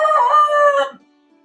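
A pure white desi rooster lets out a single loud, close crow lasting under a second, then falls quiet.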